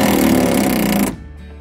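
An impact wrench hammers on a bolt of a bus's rear heater: a loud, close, rattling burst lasting about a second that cuts off abruptly, leaving quieter workshop background.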